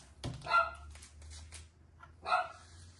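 Gracie, a pet dog, lets out two short, moderately loud barks about two seconds apart in a quiet room, with no talking.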